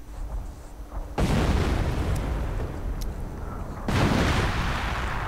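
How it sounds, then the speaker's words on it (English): Video-game artillery shells striking a bunker, giving two heavy, loud booms that each roll on as a sustained rumble before the next hit. "And a bit of artillery to finish off that bunker."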